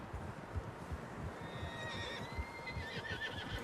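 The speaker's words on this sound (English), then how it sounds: "Horses, quite a few of them." Several horses neigh in Red Dead Redemption 2, with whinnies rising over a steady outdoor rumble and hoof clip-clop, moderately distant and layered, with no talk during the sounds.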